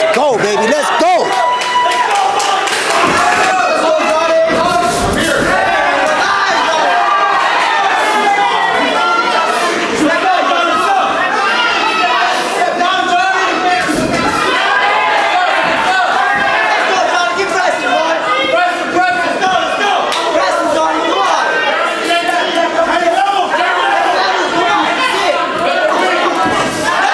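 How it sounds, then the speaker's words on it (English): Dense crowd at a live boxing fight cheers and chatters loudly without pause, broadband roar with scattered claps and shouts, voices layered throughout. "Everybody behind me is cheering for the red team."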